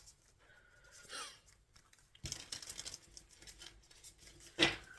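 Tarot cards being shuffled by hand, with soft papery riffling and brushing that builds into a denser flurry partway through and ends in a sharper slap, close and fairly quiet.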